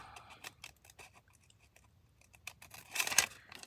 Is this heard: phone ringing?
no